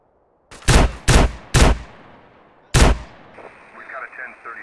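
Gunfire in GTA San Andreas Definitive Edition: three loud, closely spaced shots, a pause, then a fourth blast, each with a short decaying tail, followed by faint radio-like chatter.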